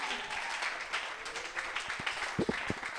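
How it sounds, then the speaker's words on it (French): An audience at an end-of-training certificate ceremony claps, faint and somewhat distant, with a soft wash of hands and a few sharper claps standing out near the end. "Sous vos acclamations, s'il vous plaît."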